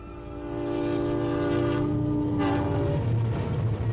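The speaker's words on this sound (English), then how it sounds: "It is the night train from the city." A night train from the city passes, its sustained horn blaring loud over a rising rumble and rattle of rail cars, the horn cutting off as the wheels roll on.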